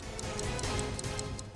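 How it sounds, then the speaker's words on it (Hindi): A clock ticks steadily and quickly, crisp regular clicks up close over a low background murmur, with no talking; the ticking comes from a bomb. "घड़ी की आवाज?"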